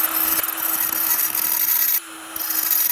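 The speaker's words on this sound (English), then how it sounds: "plan B is to cut the end of the 21 millimeter wrench" Cutting through the end of a 21 mm steel wrench during Ferrari Dino 246 GTS clutch work, a steady close rasping, rubbing cut that drops out briefly near the end before resuming.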